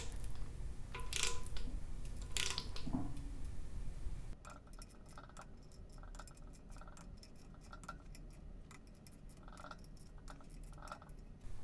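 An Eastwood torque wrench tightens the crank bolts on an LS engine, giving a run of quick metallic ratcheting clicks, close and fairly faint, after some louder clanking of metal parts, with no talk.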